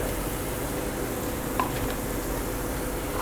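Browned onions sizzling in a pan as turmeric powder goes in for a Chettinad chicken curry, a steady close hiss with a couple of faint clicks from a spoon.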